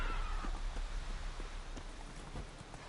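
Roach, a horse in The Witcher 3 video game, trots with steady hoof clops and gives a brief neigh, heard over a soft, constant background wash.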